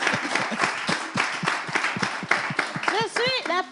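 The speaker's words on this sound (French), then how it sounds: "applaudissez pour moi" Applause for a dancer, a brisk patter of clapping from a small group with distinct individual claps, then excited voices and laughter rising over it at the end.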